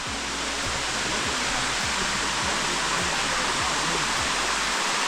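Rushing water of Sticky Waterfalls near Chiang Mai, Thailand, a loud constant roar of cascading water close by, with faint low voices of visitors underneath.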